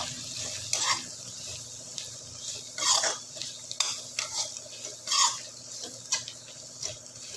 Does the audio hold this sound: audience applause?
no